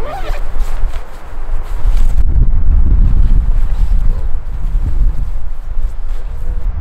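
Gusty wind at a backpacking campsite buffets the microphone with a low, continuous rumble, loud and close, rising and falling in strength.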